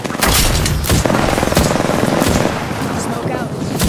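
Gunfire in the shooter game Apex Legends: loud, dense bursts of rapid automatic shots and booming impacts, with a voice talking over the barrage.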